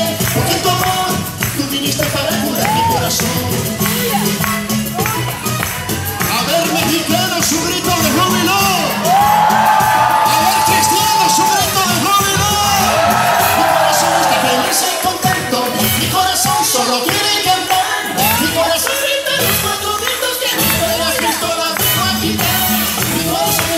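A congregation at a Christian worship gathering gives a joyful cheer, with whoops, shouts and yells from many voices. The sound is dense and loud and runs continuously for about twenty-four seconds.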